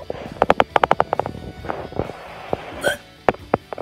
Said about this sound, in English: get rid of these hiccups.